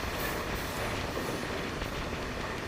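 A train running near the KRS backwater by Krishnaraja Sagar railway station: a continuous, moderately loud rumble with broadband wheel and rail noise, no voices.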